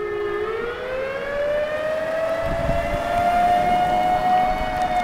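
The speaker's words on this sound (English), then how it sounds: "What you're hearing is the tsunami alarms." A long, rising wail of a tsunami warning siren sounds from a distance, holding steady over low rumbling background noise.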